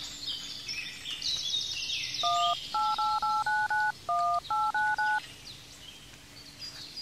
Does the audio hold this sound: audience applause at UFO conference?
no